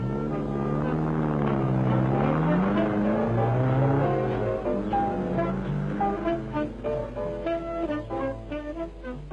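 An MG 1100 small family car carrying five people pulls away, its engine note rising and shifting as it accelerates, fairly steady and moderately close with music-like tonal layers running alongside.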